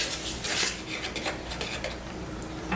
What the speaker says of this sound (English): Whisk them in, and then I'll start adding in the other liquid ingredients.